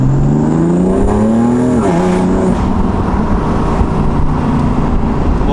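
A BMW M4 drives hard, the engine revving loud and close with rising and dipping pitch as it accelerates and shifts, steady roar throughout.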